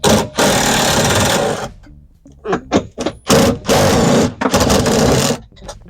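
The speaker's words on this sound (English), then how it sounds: "using an 18mm, remove the nuts holding the rear of the seat" An 18mm socket wrench ratchets rear seat nuts off a Can-Am X3, giving loud bursts of dense mechanical clicking that stop and start in short runs.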